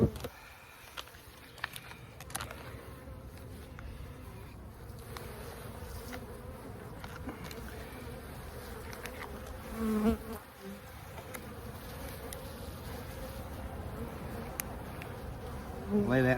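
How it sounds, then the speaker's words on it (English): Dense, steady buzzing of many honeybees swarming close by at an open hive, continuous throughout with a few brief knocks and rustles. "Oh man, look at all the bees."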